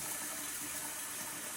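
Water pouring steadily into a pot of rice for cooking, a continuous faint hissing gush heard alone for a moment.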